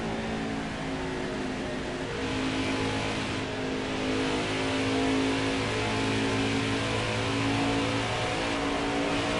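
Xfinity race car engine at half throttle in a Pocono race in a video game, a continuous, close, steady drone whose pitch rises and falls gently, heard alone without talk for nearly ten seconds.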